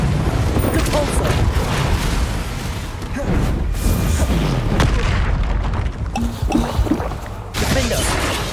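A Depulso spell in Hogwarts Legacy releases a loud booming blast, heavy rumbling impacts rolling through several seconds of busy combat noise, with voices present.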